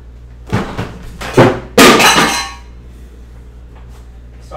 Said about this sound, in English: Poor water bottle took a tumble.